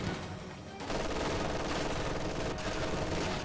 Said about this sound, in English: Stolen MG42 over here on the right side